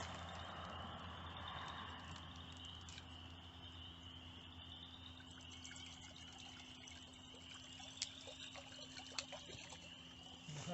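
Water poured into a pan set over a hot campfire, a steady close trickle and gentle rushing that runs throughout, with faint crackles and small taps near the end.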